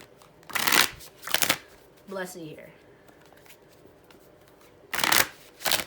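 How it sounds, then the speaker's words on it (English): A deck of tarot cards is shuffled in brisk, crisp riffling bursts, two close together, then a pause with a brief spoken phrase, then two more bursts near the end. "Let's get one more shuffle."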